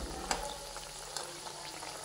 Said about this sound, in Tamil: இதை நல்லா ஃப்ரை பண்ணி எடுத்துக்கலாம்